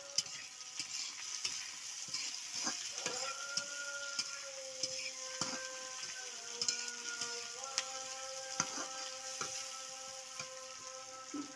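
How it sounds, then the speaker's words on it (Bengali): Onions frying in oil with a bay leaf, cinnamon and cardamom, a steady faint sizzle under repeated light scrapes and taps of a spoon against the pan. "পেঁয়াজগুলো আমি একটু লাল লাল করে ভেজে নেব।"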